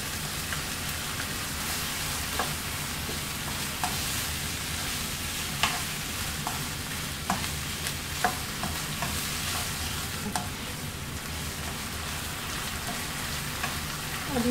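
Capsicum and mushrooms fry in a pan for white sauce pasta, giving a constant soft sizzle with occasional sharp clicks and scrapes as they are stirred, fairly quiet and with no voices.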